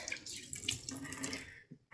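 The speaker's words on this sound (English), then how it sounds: "And I pour some water here." Water pours and splashes onto a patio surface close by, a soft running gush that tapers off, followed by a few brief spatters.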